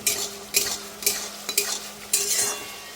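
A spatula scrapes and stirs food in a frying pan, five distinct strokes roughly half a second apart with a faint sizzle underneath, close and clear with no talking.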